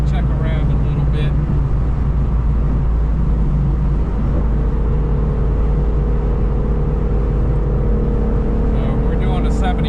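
A 2024 Mustang GT pulling hard in third gear from about 70, a loud constant engine drone from inside the car that rises in pitch as it accelerates.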